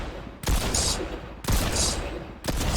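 Mammoth pistol gunfire in Fortnite, three loud, sharp shots spaced about a second apart, each with a short ringing tail.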